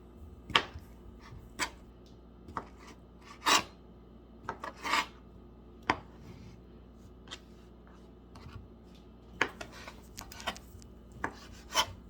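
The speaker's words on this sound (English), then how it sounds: "So I'm just slicing" A knife cuts food on a cutting board in sharp, isolated strokes spaced a second or more apart, with quiet rasping between them. The cuts are close and clear, and no one talks.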